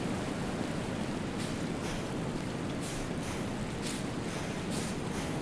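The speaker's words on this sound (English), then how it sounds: "Because it sounds like it's where the river is." A river in Unforgiving: A Northern Hymn rushes steadily nearby, a continuous broad wash of flowing water with faint splashy surges and no talking.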